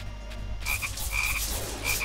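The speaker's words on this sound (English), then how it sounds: "Wow, a lot of frogs." Frogs croak repeatedly in the Touhou fighting game Youyou Kengeki Musou, short bright chirping croaks starting after a brief quiet moment and repeating in quick pairs over a busy, loud game backdrop.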